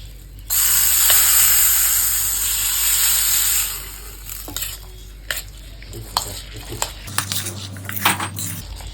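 Tempering poured into moong dal kosambari with lemon juice gives a loud, steady sizzle for about three seconds, then fades into scattered stirring clinks and scrapes of utensils against the bowl.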